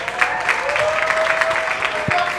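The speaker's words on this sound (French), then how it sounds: "Est-ce que vous pouvez applaudir très très fort?" Loud applause from a comedy show audience, dense steady clapping across the whole stretch with a faint crowd murmur and a brief whistle-like tone running underneath.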